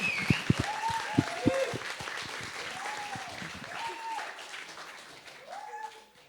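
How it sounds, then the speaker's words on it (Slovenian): A small audience claps after a talk show conversation, a spread of hand claps with a few sharp near claps early on, under faint voices and background sounds, fading toward the end. "mislim, da si zaslužita en velik aplavz"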